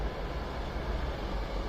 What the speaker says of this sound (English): this is the train not stopping